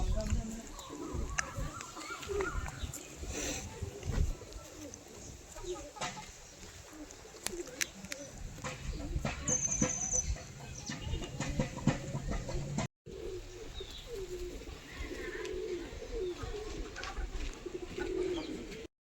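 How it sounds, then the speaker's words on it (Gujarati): Pigeons at a coop or loft coo on and off at close range over a steady birdy background, with other bird calls scattered through and a brief dropout near the end. "બાકી બધા કબૂતર બહાર છે."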